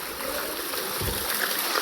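Rainwater pours down the stone steps of a hilltop temple in steady rain, a continuous close rushing and splashing flow that stays even in loudness throughout, with no voices.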